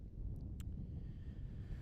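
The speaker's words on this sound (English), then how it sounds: "It is windy." Low, steady wind buffeting the microphone with a rumbling roar, joined by a couple of brief faint ticks.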